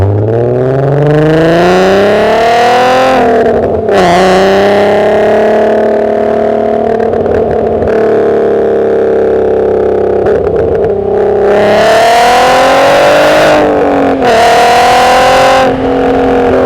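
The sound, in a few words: VW R32 car engine revving and accelerating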